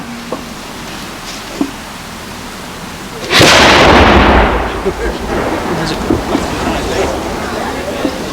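Black-powder cannon fired by a garrison crew at Fort Loudoun lets off a single loud, booming blast that rolls off over a couple of seconds, preceded by quiet crowd sounds and a spoken command.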